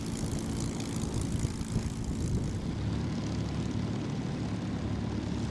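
A P-51 Mustang, a Second World War propeller fighter, roars steadily and loudly at an airshow. The engine drone is continuous and stays strong throughout, with no voices heard.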